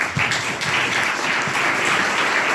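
Loud, dense applause from an audience at an arts association event, steady sustained clapping throughout with no speech over it.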